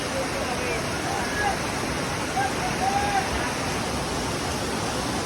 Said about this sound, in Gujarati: તો અહીંયા ખૂબ વરસાદ પડ્યો અને અહીંયા ઝરણું વરસાદનું છે